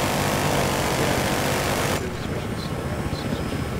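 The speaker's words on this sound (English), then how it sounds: "Transport chopper incoming." A transport helicopter in the video game Battlefield Hardline roars steadily up close with rotor and engine, then the sound abruptly thins and drops as a higher whine comes through.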